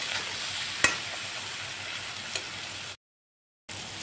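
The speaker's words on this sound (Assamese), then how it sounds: "মছলাখিনি ভালদৰে এনেদৰে অলপমান ভাজি ল'ম।" Turmeric and other spices fry in a pan for egg curry, a low steady sizzle with a couple of sharp stirring clicks, then a brief cut to silence before it resumes.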